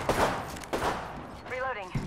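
Gunfire rings out in Apex Legends, a few dull, echoing shots under a character's voice speaking briefly.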